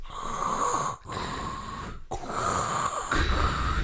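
Someone imitates Darth Vader's loud, heavy mechanical respirator breathing in long rasping cycles, with two brief pauses between breaths.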